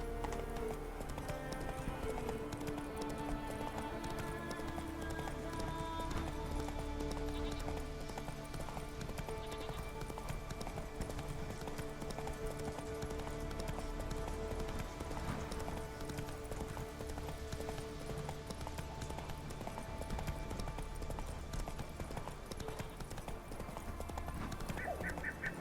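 Roach the horse galloping in The Witcher 3, a steady rapid clip-clop of hooves running continuously over a droning game music bed, moderately loud throughout.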